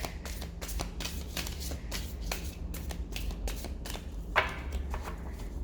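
Tarot deck being shuffled close by, with a steady stream of papery riffling and rhythmic card slaps and one sharper snap near the end.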